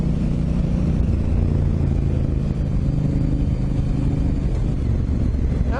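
A 2018 Honda Africa Twin motorcycle engine while riding, a steady close rumbling drone mixed with wind noise, continuous and without talk.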